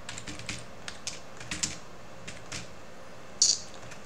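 Quiet keystrokes on a computer keyboard while a Linux terminal is used, scattered irregular clicks with a brief louder tap near the end, no voices.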